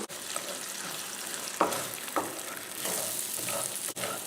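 Scrambled eggs sizzle steadily on a hot griddle, a close, continuous frying hiss broken by a few sharp scrapes and taps of a spatula moving the eggs around.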